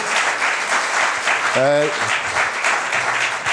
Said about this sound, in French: J'aimerais qu'on applaudisse tous les artisans de TVBL qui ont rendu ça possible